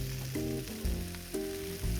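Hash browns sizzle in butter and beef drippings in a skillet, a steady loud fry with bursts of scraping and low thumps as the potatoes are spread out, with no talking.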